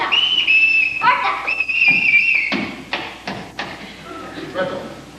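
A sharp shrill whistle blown in a household to call children, giving two long sustained blasts over the first few seconds, followed by knocks and thuds.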